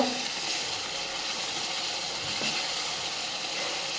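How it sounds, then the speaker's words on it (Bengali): Chicken masala frying in a pan gives off a steady, even hiss of sizzling oil that stays constant and close throughout, with no talking. "চিকেনের মশলাটা আমি ভালো করে কষিয়ে নিব"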